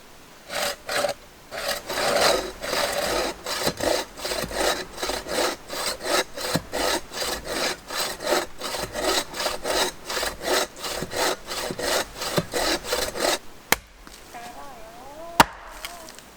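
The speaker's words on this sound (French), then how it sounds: "c'est une scie où tu peux couper en tirant et en poussant" A hand saw that cuts on both the pull and push stroke works through wood: steady, rhythmic rasping strokes, close and fairly loud, then stopping near the end with a couple of sharp knocks.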